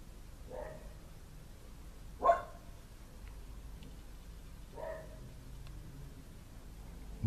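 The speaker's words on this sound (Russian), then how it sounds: "Идет собачка." A dog gives two short, separate barks, the first louder and the second softer, over a steady low background hiss with no talk.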